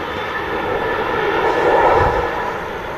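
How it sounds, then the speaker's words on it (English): A KLM Embraer jet touches down after a long flare at Manchester Airport, its engines giving a loud steady roar with a broad rumble swelling slightly at the middle, no talk. "Long flare there from the KLM Embraer touching down"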